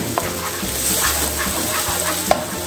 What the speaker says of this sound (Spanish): esperamos ahí a que el ajo se dore, más o menos por un minuto será